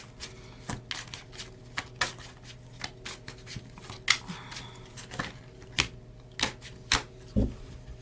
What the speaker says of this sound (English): I do want to pull one more card just to see.